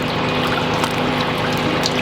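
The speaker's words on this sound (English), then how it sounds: "we're gonna show everybody that we're releasing it gently into the water" Steady, close water churn and trickle as a fish is gently released back into a river, continuous and fairly loud with no voices.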